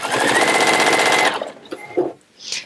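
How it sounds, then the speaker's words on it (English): A sewing machine stitches through a bag in a fast, steady run of needle strokes lasting about a second and a half. Slower intermittent clicks and a soft thump follow as the fabric is turned. "Being careful not to sew through the other side of your bag as you go."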